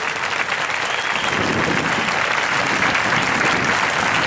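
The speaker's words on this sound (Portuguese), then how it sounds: "Uma salva de palmas para o nosso Deus." A church congregation at a Catholic mass breaks into loud, sustained applause, a dense, even wash of clapping from many hands lasting several seconds.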